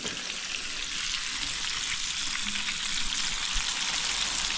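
Chicken fries slowly in a pan for Kentucky-style fried chicken, giving a soft, continuous sizzle with faint crackles at moderate level and no talk.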